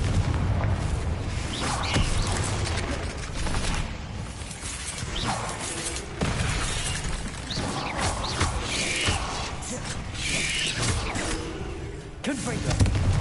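Confringo fire spell blasts in Hogwarts Legacy, a run of loud booming impacts and crackling bursts spread over several seconds, close and forceful, mixed with a voice.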